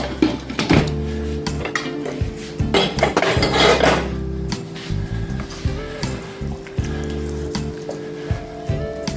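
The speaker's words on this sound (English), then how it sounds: "So I'm going to stir it up right now." Jamaican sardine-seasoned stir-fry rice is stirred in a pot, giving close, irregular scraping and clanking of a utensil against metal with soft sizzling underneath.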